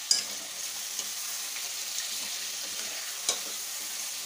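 Mutton pieces are stirred in a sizzling curry pan, a steady frying hiss with a few scraping knocks of the spoon against the pan.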